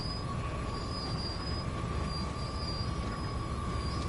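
A train locomotive in the Train Sim World game rumbles steadily with a faint sustained tone over it, heard at low volume and without talk.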